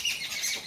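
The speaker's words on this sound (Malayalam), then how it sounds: "പുറത്ത് നല്ല കിളികൾ ശബ്ദം ഉണ്ടാക്കുകയാണ് കേട്ടോ." Outdoor birds chirp and call just after rain in Kerala, a short burst of thin, bright twittering over faint background hiss.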